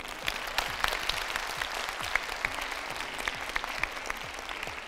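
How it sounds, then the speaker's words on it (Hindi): A studio audience at a televised talk programme applauds the panelists, a steady, fairly soft spread of many hands clapping evenly throughout, with no speech. "ऊंची सी तालियां बजाएं फिर हमारे पैनलिस्ट के लिए।"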